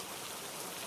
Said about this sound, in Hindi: बारिश की आवाज़ ही चारों ओर गूंज रही थी